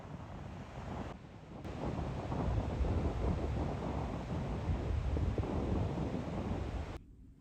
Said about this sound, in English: it was still windy, so I wanted to see the waves crashing into the shore